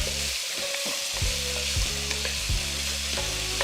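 Potatoes fry in hot bacon grease with a steady, loud sizzle, broken by several low knocks and scrapes as they are stirred and moved around the pan.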